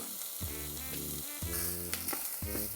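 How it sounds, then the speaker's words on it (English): Carrot and celery mirepoix sautés in a pan with a close, crackling sizzle, heard alongside steady tonal music in the background. "Carrot and celery, so we got our mirepoix, right? Just saute that for a little bit, let it get translucent."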